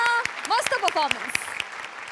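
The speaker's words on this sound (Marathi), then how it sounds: "जोरदार टाळ्या. मस्त परफॉर्मन्स." A studio audience applauds a Marathi comedy sketch performance, scattered claps mixed in under a voice speaking over them.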